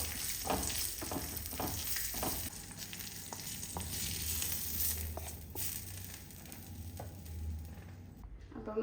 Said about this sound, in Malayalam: ഇനി നമുക്കിതിലേക്ക് അവസാനം അണ്ടിപ്പരിപ്പ് മുന്തിരിയും വറുത്തെടുക്കാം.